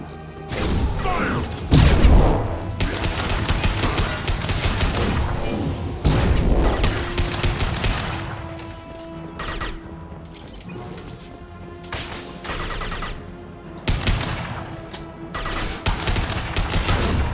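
Bursts of gunfire and heavy booms in the video game Mass Effect, with rapid automatic fire and explosive impacts coming in loud clusters over a droning game soundtrack.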